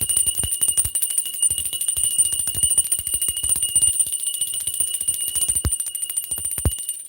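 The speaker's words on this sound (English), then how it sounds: "Vinny, let me ring the bell" An electronic bell rings steadily as a sustained, bright tone with a rapid pulsing trill underneath, clear and continuous for several seconds without any talking.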